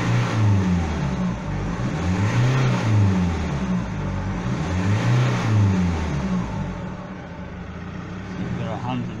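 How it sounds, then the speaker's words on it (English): A 2007 Ford Mondeo 2.0 TDCi diesel engine that shows excessive smoke, revved hard with throttle blips: a loud, steady diesel drone that rises and falls in repeated surges, heard up close with no talk. "Give it a blip on the throttle."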